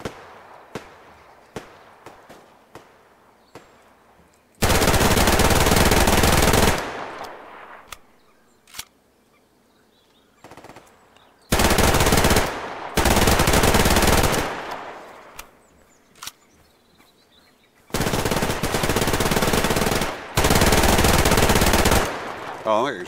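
Automatic gunfire from a gun in the video game Survarium comes as three loud sustained bursts, each lasting a couple of seconds, separated by quieter stretches with faint clicks and taps.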